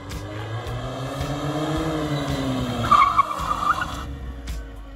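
Datsun 510 wagon with newly upgraded big brakes stopping hard, tires squealing and skidding loudly near the end as the car comes to a halt, with engine and road rumble throughout.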